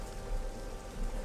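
Rain falls in Morrowind at dawn beside a fishing spot, a soft, even patter and hiss that stays low and steady throughout, with no voices.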